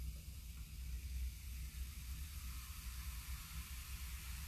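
A soft, continuous hiss and fizz of vinegar reacting and giving off gas, a steady faint effervescent noise that persists evenly for several seconds with no talking over it.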